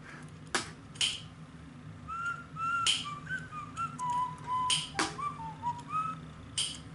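A tuneful whistled melody in Baldi's Basics, a series of short rising and falling notes, moderately loud, punctuated by sharp clacks and thumps.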